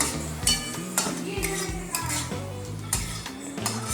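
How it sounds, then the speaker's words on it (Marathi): Onions frying in a pan for homemade Schezwan fried rice, with repeated clinks and scrapes of a spoon stirring against the pan over a soft sizzle, close and steady with no talking. "कांदा जास्त फ्राय कर, कच्चा राहतो."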